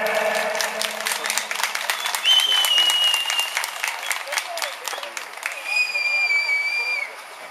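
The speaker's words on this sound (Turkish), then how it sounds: "Bir alkış alalım güzel çiftimize" Steady applause from a wedding crowd fills the clip, with a few whistles rising over the clapping and voices mixed in.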